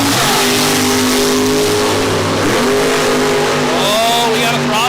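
Drag race cars, a Cavalier and a Mustang Roadster, roar loudly at a spring drag racing event, sustained engine tones rising in pitch as they rev and accelerate, with crowd and voice noise layered over the continuous blare.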